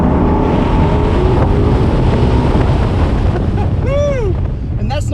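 A 2019 Ford Mustang Shelby Cobra GT350 pulls away gently from a stop, its engine note rising beneath heavy wind and road rumble, with a few short squeaky tones near the end.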